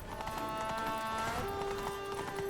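Roach, a horse in The Witcher 3: Wild Hunt Blood and Wine, trots with steady, fairly close clip-clopping hooves under a bed of sustained musical tones and game ambience.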